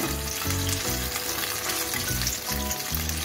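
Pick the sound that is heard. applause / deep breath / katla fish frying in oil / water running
katla fish frying in oil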